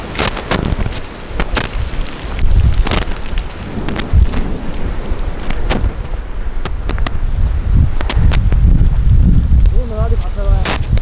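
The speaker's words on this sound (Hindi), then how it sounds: "बारिश आ रही है" Steady rain falls hard outdoors in a Himalayan village in Uttarakhand, a dense continuous hiss with sharp drops and gusts striking close by. Low rumbling and a brief whistle-like tone come through near the end.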